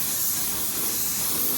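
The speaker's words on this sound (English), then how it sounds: "Now you'll notice when I spray it" A spray gun at 23 PSI lays matte clear coat onto a car body, giving a steady, close, broadband airy hiss that runs unbroken throughout.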